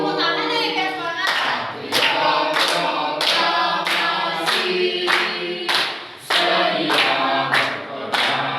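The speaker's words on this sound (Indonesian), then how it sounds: "Sampai tepuk tangan ya biar semangat." Schoolchildren clap in steady rhythm along to the patriotic song "Garuda Pancasila", sharp even beats at roughly one per second over loud group singing.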